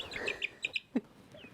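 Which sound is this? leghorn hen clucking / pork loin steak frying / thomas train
leghorn hen clucking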